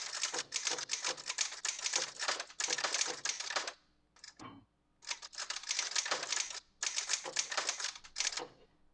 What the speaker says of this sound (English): So I just press here and chose the keyboard click, or let's use the typewriter.